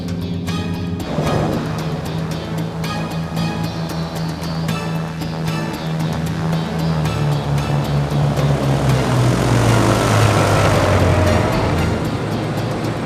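A propeller airplane engine drones loud and close, a rich steady roar whose pitch slides gradually downward near the end, with no voices over it.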